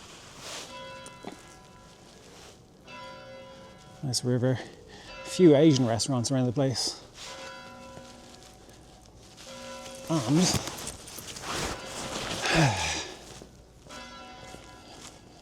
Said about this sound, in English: that bell is gonna ring like crazy now